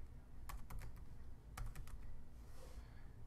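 Quiet keystrokes on a computer keyboard come in two short bursts of quick taps, faint and close, with no talking.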